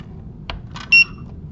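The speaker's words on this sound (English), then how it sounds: "And I hope you heard that little beep there." A VoiceIt device gives one short, clear electronic beep as its data cable is plugged in, following a faint click; the tone stands out over quiet room hiss.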